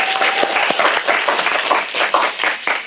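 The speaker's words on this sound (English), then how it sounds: "Oh, clap it up for her." An audience claps for a college senior at a classroom-style comedy event, a lively patter of many hands with several sharper individual claps standing out, close and fairly loud throughout.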